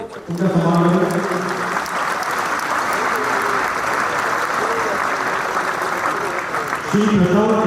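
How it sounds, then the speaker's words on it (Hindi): An audience at an International Day of Yoga celebration at the Wagah Border, Amritsar applauds steadily for several seconds, a dense continuous crowd clapping with voices at the start and end. "कृपया तालियों से उनका सम्मान करें।"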